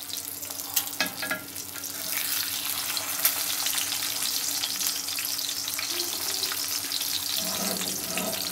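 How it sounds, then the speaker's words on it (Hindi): An egg fries in a pan for breakfast, giving a continuous close sizzle with light spatter and an occasional clink, steady and unbroken, with no voices. "नाश्ते में आज मैं अपने लिए अंडा फ्राई कर लूँ।"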